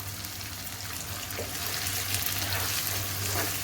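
Tomato paste fries with spices in a pot for a chicken handi, a steady close sizzle with soft stirring scrapes and a low constant hum beneath, no talking.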